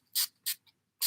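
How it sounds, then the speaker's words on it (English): NYX setting spray misted onto a makeup beauty blender in three short, close hissing bursts with gaps between them, plus a faint tap. "I'm just wetting my beauty blender with the NYX setting spray."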